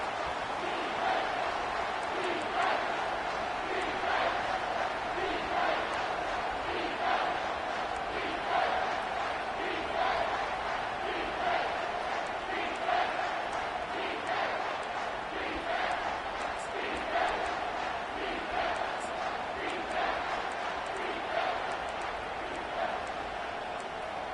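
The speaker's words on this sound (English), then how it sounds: "Here comes this home crowd as the defense tries to get off the field on third down" A home crowd at a football game sends up a steady, loud roar that swells slightly over the full stretch, with a commentator's voice faintly under it.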